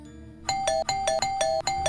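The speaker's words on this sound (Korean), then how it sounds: "그 띵동 하는 그 초인종 소리가" A doorbell chime rings in rapid succession, five quick electronic ding-dong tones pressed one after another, clear and close with short gaps between.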